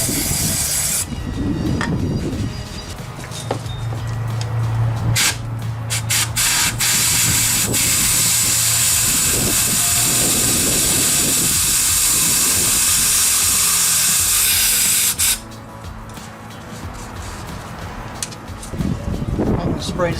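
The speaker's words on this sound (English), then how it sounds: "I'm going to use a carburetor and blow it out. Try to sop it up and blow it out with air hose" An air hose blasts a loud, continuous hiss around a car engine's spark plug hole to clear carburetor cleaner, running long with brief pauses and some handling noise around it.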